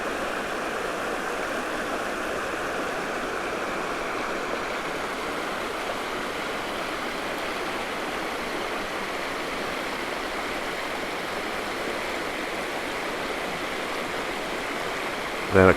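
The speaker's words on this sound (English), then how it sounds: "I already see some nice flow to the creek here" Six Mile Creek water rushes in a steady, continuous wash near a dam and reservoir, an unbroken babble with no voices.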